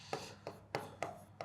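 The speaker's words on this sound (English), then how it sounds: "I am going to write it over here" Handwriting with pen on a surface: five short, evenly spaced scratchy strokes, close and faint, with no talk over them.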